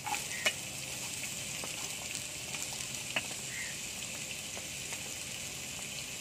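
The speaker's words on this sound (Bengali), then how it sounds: "আমি গাজরগুলো ভেজে নেব, গাজর বিনস।" Steady oil sizzle of carrots frying in a kadai, with occasional faint clinks of a utensil; no one speaks.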